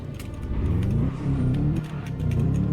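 A Mazda RX7 on snow tires corners with the handbrake, its engine droning and rising in pitch under acceleration, close and steady with faint clicks and rattles over the top.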